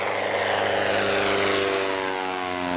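A light propeller aircraft assembled in Kazakhstan drones steadily nearby, its engine and airscrew giving a loud, continuous hum with no voices over it.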